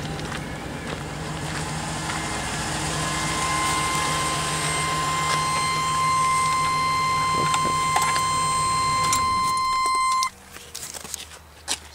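A 1996 Chevrolet Silverado 2500 idles steadily through a large bus-style muffler, a low, quiet, even drone with a faint high whine over it, cutting off abruptly near the end.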